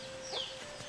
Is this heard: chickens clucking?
yes